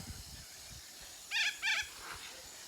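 Noisy birds outdoors in an Australian vegetable garden give two loud, harsh, close squawks in quick succession, then a fainter third call, over a low steady outdoor rumble with no talking.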